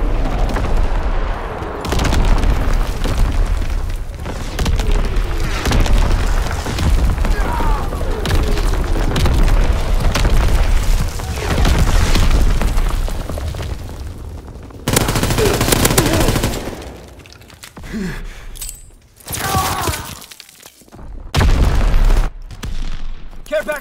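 Artillery battery fire in a video game pounds through repeated booms and rattling gunfire, loud and sustained with brief lulls, while a voice speaks over the barrage.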